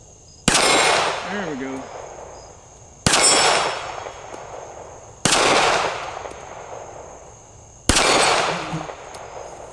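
Four loud, sharp gunshots from a Ruger LCP MAX pistol crack out at evenly spaced intervals, each followed by a brief ringing decay, with a short spoken remark after the first shot.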